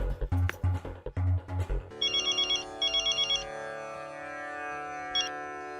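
Electronic telephone ringtone starts after a few seconds of speech, repeating in short bursts of high trilling tones over a steady droning background.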